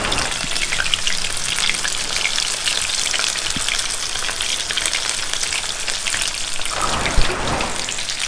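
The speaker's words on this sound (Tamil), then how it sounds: "இப்போ பார்த்தீங்கன்னா செகண்ட் லாட்டும் வந்து ஃப்ரை ஆகிடுச்சு, நல்லா குயிக்காக ஃப்ரை ஆகிருக்கு." Chicken 65 pieces deep frying in hot oil, a steady dense sizzle and crackle that holds close and loud throughout with a slight burst near the end.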